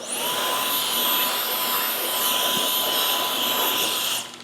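Air blower clearing dust off sanded, cracked and peeling paint during repair prep: a loud, steady hissing rush of air lasting about four seconds, then cutting off.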